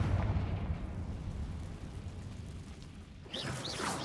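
The Confringo explosion spell in Hogwarts Legacy: a loud rumbling blast that dies down into a noisy decay, followed by a sharper crackling burst near the end.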